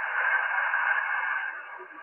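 An HF radio receiver running through a preamp gives a steady, band-limited hiss of static with a weak station buried in it. The noise stays continuous and fairly loud, easing slightly toward the end.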